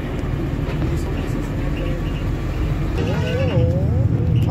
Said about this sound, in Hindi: गाड़ी पीछे तरफ से आ रही है